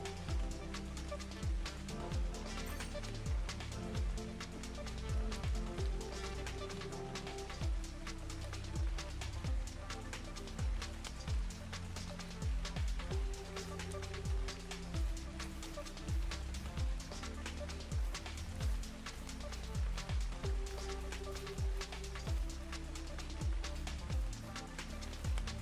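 Steady rain falls outdoors on a homemade slide build, a dense continuous patter with faint low rumbling beneath, heard alone without voices.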